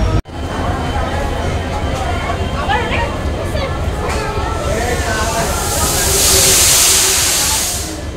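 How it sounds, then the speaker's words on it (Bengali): The Dhauli Express pulls out of Shalimar station with a steady broadband rumble and hiss of the moving train, a brief clunk at the start and a rising hiss later, while a voice talks over it. "এখন কিন্তু ট্রেন থেমেছে, তোমরা দেখতে পাচ্ছ, শালিমার ছেড়ে যাচ্ছে।"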